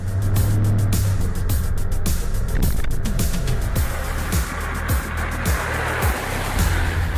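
Interior engine sound of a Lada Niva car driving on the road, a steady droning hum with broad road and wind rush and periodic low rhythmic bumps, loud and close from inside the cabin.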